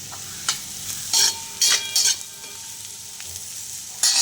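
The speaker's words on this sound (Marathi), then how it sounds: "ह्या भाजीला खालीवर करून घेणार आहे, म्हणजे हलवून घेणार आहे" Dry potato sabzi with chopped tomato and coriander is stirred in a pan, a few sharp scraping strokes over a faint, steady sizzle, close by and with no voices.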